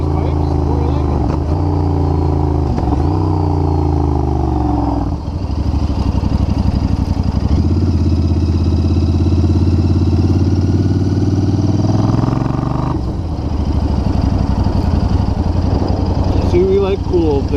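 A 2021 Royal Enfield Continental GT motorcycle fitted with Emgo slip-on pipes thumps steadily while riding, its loud, throaty exhaust note rising in a brief rev near the end, with someone talking over it.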